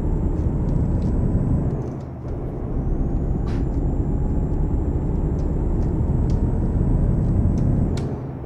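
A truck in Euro Truck Simulator 2 pulling out of a port, its engine droning in a continuous heavy, strained rumble with a brief dip partway through and faint high clicks on top.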